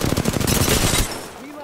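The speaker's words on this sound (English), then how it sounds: "Listen up, I'm getting shot at." Rapid automatic gunfire in the Apex Legends video game, a loud, close burst of fast shots for about a second that cuts off into a brief ringing tail.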